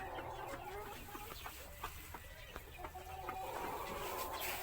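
Plymouth Barred Rock chickens cluck in a free-range breeding pen bedded with rice hulls, with repeated soft clucks and brief calls over a steady background hum.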